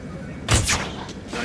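Tranquilliser dart gun fired from a helicopter at a dinosaur in Jurassic World Evolution, a single sharp close shot followed by a brief rushing tail, with a second fainter burst near the end.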